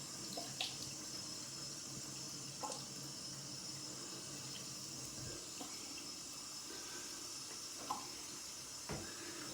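A bathroom tap runs steadily while someone rinses after a shave, a continuous soft hiss of flowing water with a few faint splashes and knocks.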